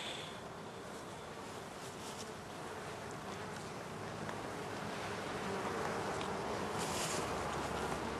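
Honey bees from colonies at migration stands in an apiary hum in a dense, continuous buzz that swells slightly toward the end, steady and moderately close with no voices.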